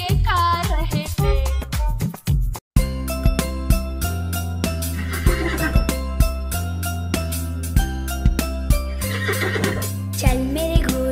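A cartoon horse whinnies and clip-clops in a lively Hindi nursery rhyme, with its neigh opening over bouncy, steady music that carries on loudly throughout.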